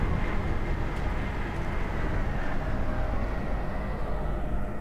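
Steady rumbling ride aboard a tram in DOOM 3 Resurrection of Evil, a broad low roar and rattle that stays loud and even throughout, with no voices.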